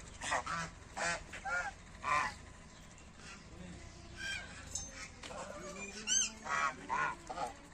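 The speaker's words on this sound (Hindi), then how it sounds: "देखो बत्तखें पानी पी रही हैं।" Farmyard ducks at a water trough give repeated nasal quacks in short bursts, moderately near and fairly quiet, with some soft background noise between calls.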